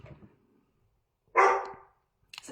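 Indoors, a dog lets out one sharp, loud bark close by, with a faint rustle before it and a brief scuffle of small noises afterward.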